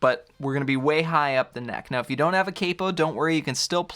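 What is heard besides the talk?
No everyday noises stand out.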